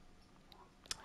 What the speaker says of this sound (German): Und das Piepen, was ihr hört, ist hier der Sonar.